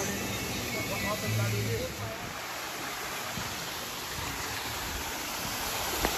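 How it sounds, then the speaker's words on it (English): Small waterfalls in the Dominican Republic near Punta Cana, a steady broadband rush of falling water that continues evenly throughout, with a brief low murmur of voices partway through. "Nice little waterfalls."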